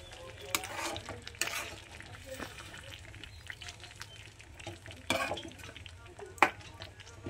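A spoon stirs pithla with coriander in a pan, soft scraping and gentle sizzling at low level, with a few sharp clinks of metal against the pan.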